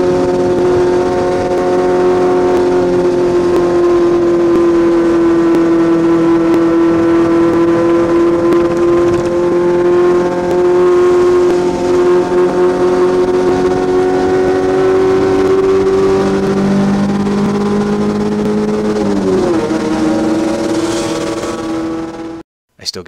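A Porsche 911 lapping Watkins Glen race track, its loud engine droning steadily close by with a sustained tone that rises gradually, then a quick drop and shift near the end before cutting off.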